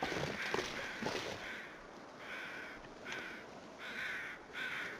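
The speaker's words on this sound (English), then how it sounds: "Birds circling something way down in the valley" Crows caw repeatedly in the survival game The Long Dark, a series of harsh calls in short bursts, fairly faint and distant, over a soft wind-like background.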